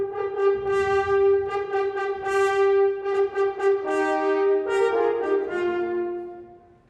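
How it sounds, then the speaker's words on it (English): French horns playing a sustained, brassy passage at a children's classics concert by a symphony orchestra, held tones with swelling harmonics and shifting pitches for about seven seconds, fading at the end with no talking. "Let's hear the horns."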